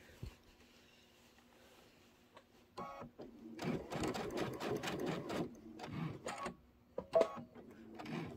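A quilting sewing machine stitches in short bursts with pauses between them, heel taps on the pedal making brief stops and starts. The sound is close and moderately quiet, with small clicks in the gaps.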